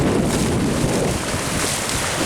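Gulf of Mexico waves wash along the beach on St. Joe Peninsula near St. Joe Harbor in Florida, a loud, steady roar of surf mixed with heavy wind buffeting, with no voices.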